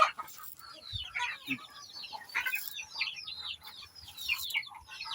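Chickens clucking and chirping in a busy flock, with overlapping calls throughout and a few low thumps nearby.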